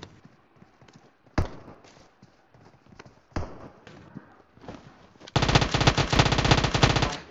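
Gunfire in a video game: a few isolated sharp shots early on, then a rapid, loud burst of repeated blasts over the last two seconds, with faint background clatter between.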